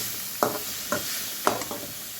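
Paneer and palak fry in hot oil, a steady soft sizzle broken by three or four distinct stirring scrapes of a spoon in the pan, close and fairly quiet.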